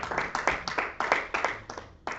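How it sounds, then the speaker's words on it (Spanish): Hands clap in a church service, about a dozen distinct, fairly quiet claps in a loose, rhythmic beat from a small group, each one sharp and separate. "Dale un aplauso al que vive"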